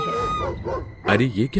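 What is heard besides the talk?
dogs barking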